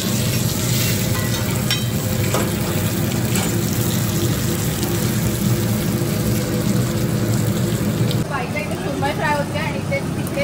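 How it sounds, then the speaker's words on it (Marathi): Surmai kingfish frying in a pan at a roadside dhaba, a loud continuous sizzle with occasional stirring clinks. "ह्याच्या बाजूलाच ही सुरमई फ्राय होते बघा."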